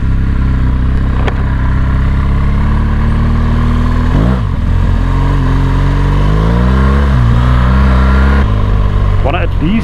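A 2017 BMW R1200GS motorcycle engine rumbles loud and close, a deep throaty drone that dips and rises as the throttle shifts and the pitch sweeps briefly.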